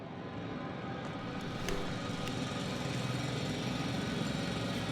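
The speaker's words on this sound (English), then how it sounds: "It's a drill." A drill boring underground runs as a continuous, loud mechanical drone with a deep vibrating rumble, holding steady throughout with no speech.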